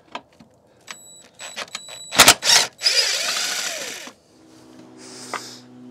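A power screwdriver spins out a Torx screw on the front bumper of a BMW E65 7 Series, giving several short separated whirring bursts with clicks and clatter between them, close by and without talk.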